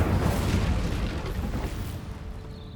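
The Incendio fire spell in Hogwarts Legacy, heard as a loud, deep whooshing burst of flame that roars at close range and then tapers off over about two seconds.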